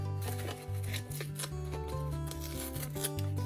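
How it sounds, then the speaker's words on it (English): Scissors snip and rub through stiff cardboard in short, uneven strokes, close by, over a low steady hum. "You could use some scissors here to sort of help it along."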